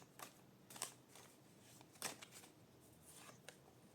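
Tarot cards being shuffled by hand, heard as several quick, soft riffling bursts separated by short pauses, quiet and close with no talking.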